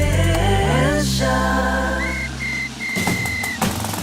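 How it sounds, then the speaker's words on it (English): A shrill life vest whistle sounds in a few short bursts, rising briefly over a background of tonal music. "The lighter whistle will attract attention."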